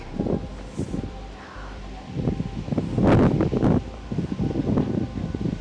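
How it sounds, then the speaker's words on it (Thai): Strong wind buffets the microphone near the summit of Fansipan mountain in Vietnam, a cold, rumbling roar with gusts that swell and ease and continues throughout. "ลมแรงมากเลย"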